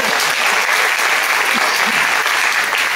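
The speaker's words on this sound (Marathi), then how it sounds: "त्यामुळे त्या टाळ्या अशा वाजवा" An audience in a music concert hall bursts into dense, sustained applause, loud and close, with many hands clapping steadily throughout and no voices rising above it.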